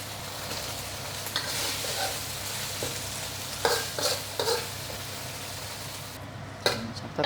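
Stir-frying in a wok for Nyonya sambal prawns: a steady close sizzle with several sharp scrapes and clanks of the spatula against the metal, and no talking.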